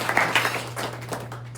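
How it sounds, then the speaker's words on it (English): Applause at a club meeting, a brief burst of scattered hand clapping from a small gathering over a steady low electrical hum, fading after about a second. "So, round of applause for the"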